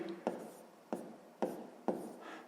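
Pen writing a math solution on paper, heard as four separate scratchy strokes spaced about half a second apart, close and quiet with no talk.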